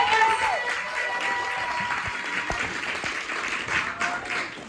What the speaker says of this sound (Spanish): Y otro aplauso ahora sí, el más fuerte.